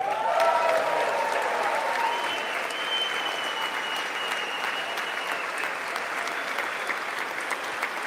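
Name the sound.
audience applause at State of the Union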